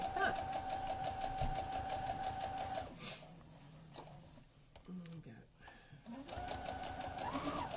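A domestic sewing machine stitching reverse applique runs in steady rapid stitches, pauses with some handling noise, then starts stitching again, close and moderately loud with a voice talking over parts.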